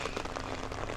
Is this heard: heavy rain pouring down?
yes